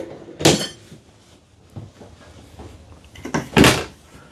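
Two soft thuds a few seconds apart as soft-close cabinet doors ease shut in an Alliance Delta travel trailer RV, with quiet handling noise in between.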